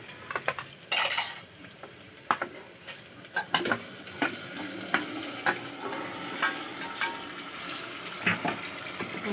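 Masala-marinated chicken with tomato fries in a pan while a spoon scrapes and stirs it, giving a sizzling bed broken by repeated clinks and scraping strokes, close up with no talking.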